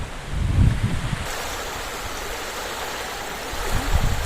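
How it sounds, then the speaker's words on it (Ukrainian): Strong wind at a wild fishing pond buffets the microphone with low rumbling gusts over a constant rush of water and waves, loudest at the start and end. "бачите, такий сильний вітер. Таку хвилю я не ризикую випливати корабліком."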